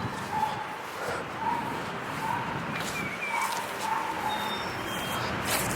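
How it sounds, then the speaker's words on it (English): Dog barking in a yard, a few yips and short barks spaced through the stretch, fairly distant against steady outdoor background hiss. "Dog barking."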